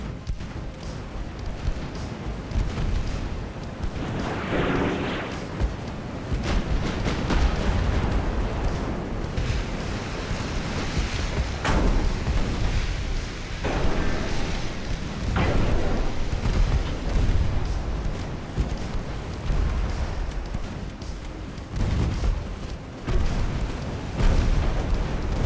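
Warship main guns firing in Ultimate Admiral: Dreadnoughts, with deep booming salvos and explosions rolling over a constant low rumble of sea and engine noise, several heavy blasts spread through the stretch.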